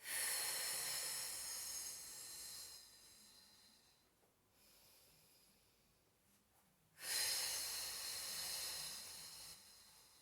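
Slow, audible breaths close to the microphone, a long hissing exhale-like stretch followed by a quieter pause and another strong breath, paced as in a postnatal glute and hip exercise.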